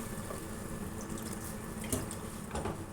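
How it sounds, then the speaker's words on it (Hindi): Two glasses of water poured into a pot of whole masoor dal, a steady broadband splashing stream running throughout, close and fairly loud, with a few sharper splashes near the end and no talk. "अब मैं ये 2 गिलास पानी है ये डालूँगी"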